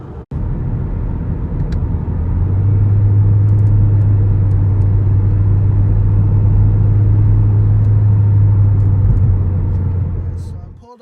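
Hyundai Genesis Coupe cruising along a road, its engine and tyre noise forming a steady low drone heard from inside the cabin after a sharp click at the start, with no speech.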